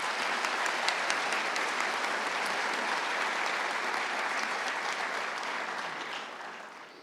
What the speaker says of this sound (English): a solid round of applause